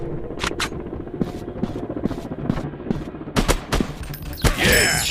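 Gunfire rings out in a counter terrorist first-person shooter video game, sharp, close shots in bursts and single cracks over a busy game background, growing denser and louder toward the end.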